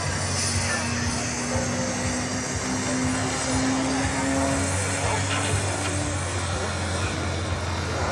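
A light propeller airplane with fixed landing gear and wheel fairings flies past at an airshow in Góraszka, its steady engine drone continuous and fairly loud against a constant outdoor background.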